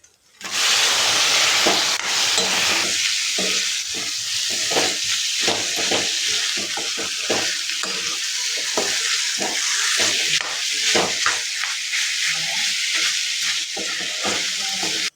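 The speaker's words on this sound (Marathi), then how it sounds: "सुक्या मसाल्याची ग्रेव्ही बनवलेली आहे इथं आता त्याच्यामध्ये मटण टाकून घ्यायचं" Mutton sizzles loudly in a dry spice masala gravy while being stirred, with a continuous hiss and repeated scraping strokes throughout and no voices.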